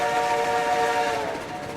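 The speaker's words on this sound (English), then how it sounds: "That's the best RO whistle right there." A locomotive whistle in the RailRoads Online video game sounds as one loud, steady chord-like blast held throughout and fading only slightly at the end, with no voices.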